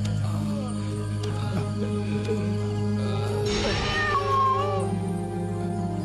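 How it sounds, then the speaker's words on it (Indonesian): A black cat meows near a doorway, a few drawn-out wavering cries rising over a steady low hum and background music, moderately loud and close. "Cuma ada kucing hitam di depan pintu."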